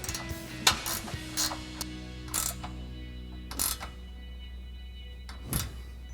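A 13mm socket wrench tightening a mounting bracket bolt to the inner rocker of a Jeep Gladiator JT, with sharp metallic ratcheting clicks in several separate bursts over a quiet background hum, close up, with no talking.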